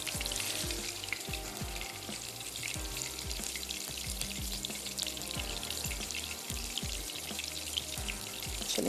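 Minced-meat kebabs with egg and gram flour frying in a pan, a constant close sizzle with frequent soft thumps and clinks throughout, no speech.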